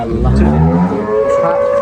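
A large dairy cow lets out a loud, close, drawn-out moo lasting nearly two seconds.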